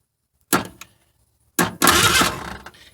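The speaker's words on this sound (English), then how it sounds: "And that'll make our engine crank over, guys." A Ford Ranger unstarted for six years has its engine cranked by touching a jumper clip to the battery's positive terminal. A short burst of starter noise is followed by a pause, then a louder, longer churning crank that tapers off.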